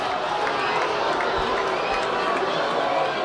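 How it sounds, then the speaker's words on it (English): A steady roar from a high school baseball crowd at a CIF playoff game, reacting to a ball called by the home plate umpire; a continuous dense murmur and shouting fills the whole stretch, with voices talking throughout. "the crowd reacting to the ball called by the home plate ump."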